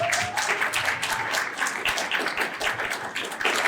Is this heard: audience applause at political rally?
yes